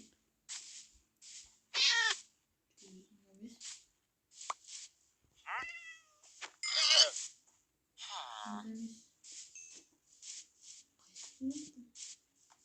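Several short cat meows come in bursts, some close and loud, others softer, with brief gaps and a few rustling sounds between them.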